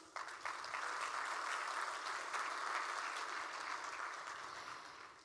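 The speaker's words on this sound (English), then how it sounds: "Please give yourselves a round of applause." Audience applause in a large hall at the opening session of the 19th World Water Congress, a dense steady round of many clapping hands starting abruptly and sustained evenly before easing off slightly at the close.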